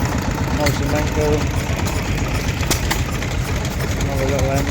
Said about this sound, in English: Another little engine. Another Amenco and air-cooled one.